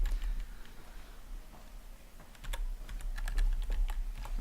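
Rapid clattering keystrokes on a computer keyboard, loud and close, typing in irregular bursts with brief pauses and no talking.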